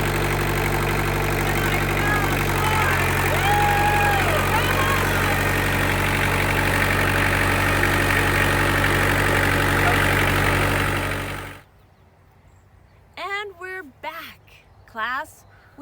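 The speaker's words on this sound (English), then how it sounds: "going to help me start this tractor" A tractor engine runs with a loud, steady, low idling rumble for most of the stretch, then cuts off abruptly, followed by bird calls in the quiet of an outdoor farm setting.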